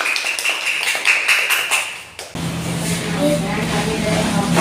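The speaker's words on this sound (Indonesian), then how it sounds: "Tepuk tangan untuk kelompok 1." Classmates applaud a student discussion group: a short burst of hand clapping for about two seconds, then it cuts off as a steady hum and room sound take over, with voices nearby.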